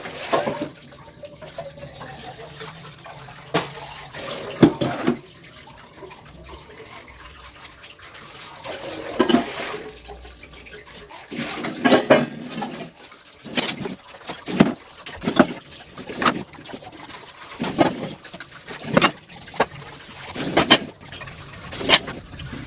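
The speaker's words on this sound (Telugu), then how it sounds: "ఇంకా గిన్నెలు అవి ఉన్నాయంటే అవి కూడా కడిగేస్తున్నాను అనమాట." Dishes and steel pots are washed under a running kitchen tap, with a steady flow of water broken by frequent sharp clinks and clatters of vessels knocking together, close by and without talk.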